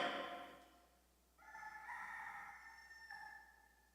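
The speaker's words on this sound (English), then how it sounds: "And when the rooster crowed, the words of Jesus flashed through Peter's mind" A rooster crows once, faint and somewhat distant, a drawn-out cock-a-doodle-doo rising and holding through the later part, following a brief fading sound at the start, with no talk, during a Good Friday church service reading.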